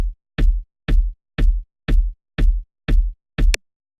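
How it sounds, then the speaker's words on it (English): Eight evenly spaced, punchy kick drum hits built from a coffee machine sample, each a deep thump with a short bright click on top, steady rhythm, loud and alone. "Yeah, just using that little part there, I made a kick drum."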